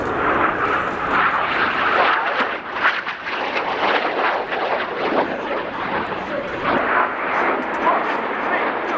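A display jet sweeps past at an air show, around 650 km/h, its engine a loud, sustained roaring rush that swells and wavers throughout, with a commentator speaking over the noise.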